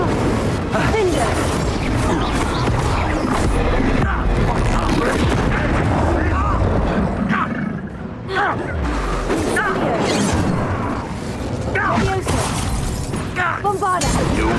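Spell blasts such as Bombarda and Incendio in the Hogwarts Legacy video game: dense, loud booms and crashes that pile up almost without pause, with game voices shouting over the battle.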